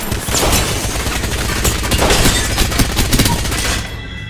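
Dense, loud gunfire in the Apex Legends shooter, with rapid overlapping bursts and booming shots during a heavy fight inside a building, continuous from start to end.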